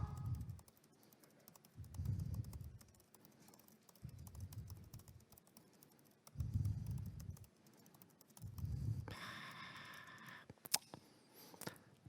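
Typing on a computer keyboard during a tech talk, quiet rapid clicking running throughout, with periodic low thumps and a brief brighter tone near the end.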